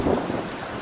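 Heavy cartoon rain, a dense, loud, continuous roar of downpour with low rumbling, steady throughout the brief moment.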